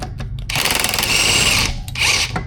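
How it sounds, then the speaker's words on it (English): A power tool zips a bolt out of the lower control arm of a 2006-2010 Jeep Commander during a front sway bar end link job. A loud, close buzzing burst lasts about a second, followed by a shorter second burst. "I'm now going to take the bottom bolt off of the lower control arm, just like so, and zing her out"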